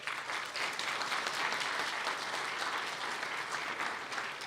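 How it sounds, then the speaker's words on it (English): Audience applause at a fireside chat on Illinois innovation and entrepreneurship, a continuous dense burst of clapping from a sizable crowd, fairly even and slightly distant. "deserves a round of applause."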